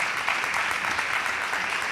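Audience clapping at a live interview event, a sustained burst of applause at moderate loudness that continues steadily from start to finish without speech.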